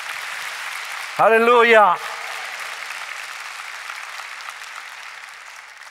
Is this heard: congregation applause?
yes